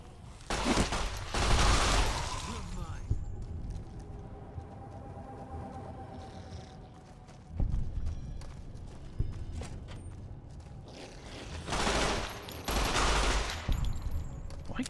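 Rapid bursts of plasma rifle fire in the game Fallout New Vegas, loud broadband volleys at the start and again near the end, with quieter game ambience between.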